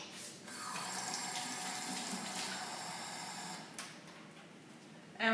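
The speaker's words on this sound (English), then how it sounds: "I'm just going to quickly give my hands a wash." Kitchen tap running steadily as hands are washed under it, a close splashing hiss that shifts briefly when the hands move, then a clunk as the water stops.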